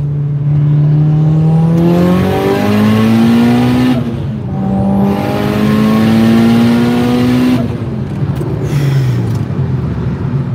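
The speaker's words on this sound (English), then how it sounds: "So the boost gauge is 25 pounds right now. So this is third gear." A turbocharged car at 25 psi of boost accelerates hard in third gear, its engine note rising steadily and loudly in two long pulls with a brief dip between them, close up and without talk.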